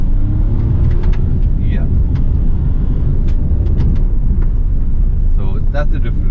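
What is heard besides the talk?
Hyundai i20 N-Line engine at 30% throttle in S mode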